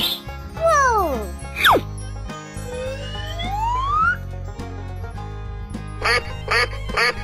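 A cartoonish duck quacks over bouncy background music, with several loud sliding quack calls early on and then a quick run of short quacks near the end.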